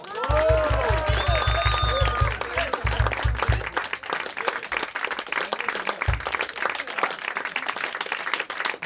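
Audience applause welcoming a guitarist: loud crowd clapping rolls steadily and then thins toward the end, while a rhythmic low thumping and some tonal sounds play early on under the clapping.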